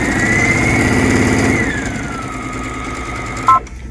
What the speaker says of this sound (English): when I start sewing, put the foot down, it will stitch three stitches forwards, three stitches backwards